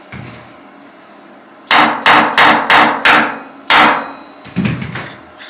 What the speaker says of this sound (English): Give me the plastic mallet.